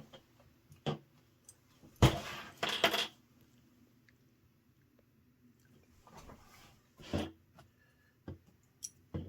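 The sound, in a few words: sewing clips being taken off a tote bag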